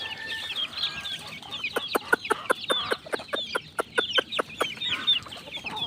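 Chicks cluck and peep at feeding time in a rapid, fairly quiet series of short, sharp repeated calls with no voices over them.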